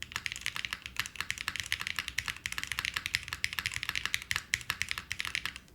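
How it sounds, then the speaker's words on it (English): Fast typing on a Swiss Cheeseboard mechanical keyboard gives a dense, even run of crisp clacky keystrokes, close up and steady from start to finish. "This is probably one of the only novel keyboards that we've received that actually sounds good"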